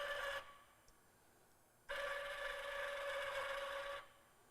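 A K Bug 2000 welding tractor runs dry on its track without welding, giving two bursts of steady mechanical whirring with a pause between them, faint and close by with no talk.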